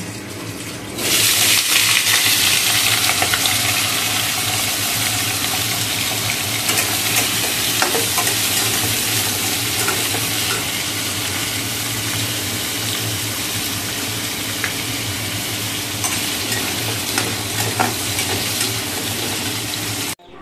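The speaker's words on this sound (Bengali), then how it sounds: "আলু চচ্চড়িটা করে নেব" Potatoes for aloo chorchori fry steadily in a pan, a loud, constant sizzle close up that runs throughout, with occasional stirring scrapes and no voices.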